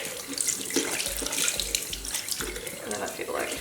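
Tap water runs steadily into a sink while makeup brushes are washed, a continuous close splashing stream filling the whole clip.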